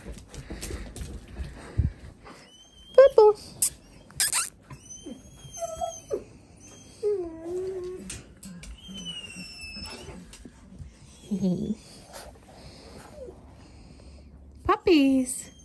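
Four-week-old puppies let out high, thin whimpers and yips in scattered bursts while a person talks softly nearby.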